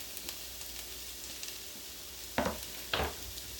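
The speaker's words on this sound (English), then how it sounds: "so in goes the onion" Chopped onion dropping into a hot pan for papas con huevo, sizzling as it lands in two sharp bursts over a low steady hiss of frying, with no talking.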